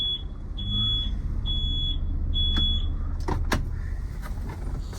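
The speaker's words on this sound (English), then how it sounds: "You also have a backup camera with the beep." A 2018 Ford Transit 150 XL van's backup warning beeps in a steady series of short tones, then stops, followed by a couple of sharp clicks over a low idling rumble.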